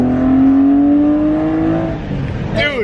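A BMW E34 M5 fitted with velocity stacks revs hard, its loud, close induction howl rising steadily in pitch before easing off, with a brief second blip near the end.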